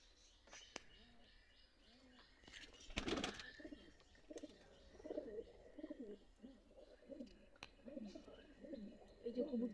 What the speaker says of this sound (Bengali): এই যে অয়ন ভাইয়ের কবুতরের খামার।